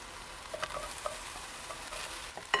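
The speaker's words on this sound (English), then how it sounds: "add another tablespoon of olive oil, and sear the mushrooms" Steady sizzling of mushrooms searing in hot olive oil, a soft crackling hiss throughout with a few small pops and clinks, close by.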